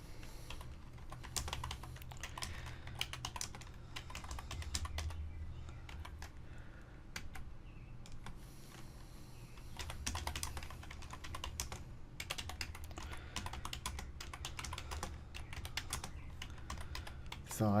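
Typing on a computer keyboard while coding a web page, with bursts of quick close key clicks and pauses throughout, and soft talk at times.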